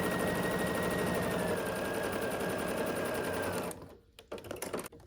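A sewing machine runs steadily, stitching the seams of a sailboat quilt block with a fast, even whir, then stops abruptly near the end, leaving a few soft handling sounds.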